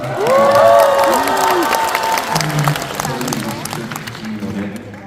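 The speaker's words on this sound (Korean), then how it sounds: "여러분들께서 끝까지 큰 박수로 함께 해주시면 감사하겠습니다" An audience at a workers' song festival concert breaks into loud, sustained applause and cheering, with voices and shouts rising above the clapping before it gradually eases.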